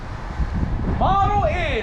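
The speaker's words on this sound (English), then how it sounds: "we're gonna apologize for the wind" Strong outdoor wind buffets the microphone in loud, continuous low rumbling gusts beside a luxury Alpine 3712KB fifth-wheel trailer, while someone talks over it.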